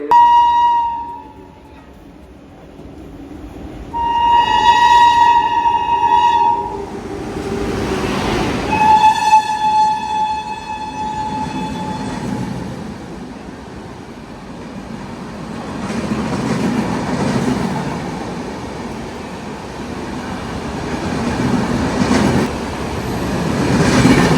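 A train horn sounds twice, loud and close, followed by the steady rumble and rattle of rail cars rolling past through a platform at Bilimora station.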